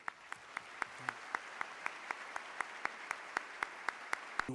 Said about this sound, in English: please join me in a round of applause for our musicians this morning